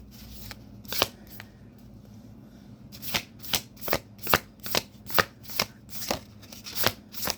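Tarot cards being shuffled by hand, a few scattered riffles followed by a steady run of sharp, evenly spaced shuffling bursts, close and fairly loud, with no talk.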